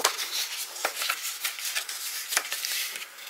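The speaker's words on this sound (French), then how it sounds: "on va plier notre papier." Paper being folded for a handmade gift bag gives close, irregular crinkling and rubbing sounds, with sharp crisp creases and soft sliding scrapes throughout and no talking.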